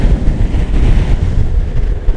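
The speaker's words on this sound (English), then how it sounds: "so windy today" Heavy wind buffets the microphone while riding a bouncy electric skateboard at speed outdoors, a loud continuous low roar and rumble with no talking over it.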